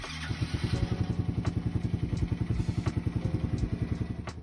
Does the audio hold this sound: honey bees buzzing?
no